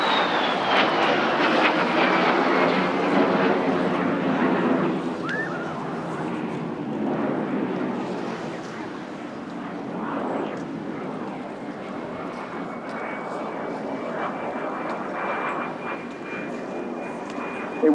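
An older military jet flies past at the Eastbourne Airshow, a loud roaring engine drone that sweeps by with a falling pitch and then settles into a steady distant rumble, while a commentator talks over it.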